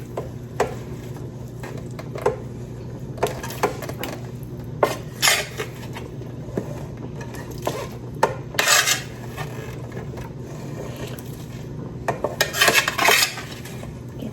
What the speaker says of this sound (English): So just very carefully spoon this back into the pot.